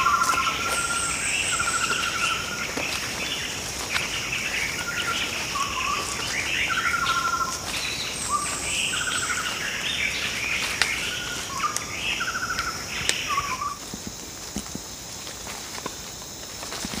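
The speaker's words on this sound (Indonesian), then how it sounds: "Bermacam-macam suara burung teman-teman sini." Several different birds call in a remote Kalimantan forest, repeated short whistles and chirps at moderate distance over a steady bed of insect buzzing, with occasional footsteps and rustling nearby.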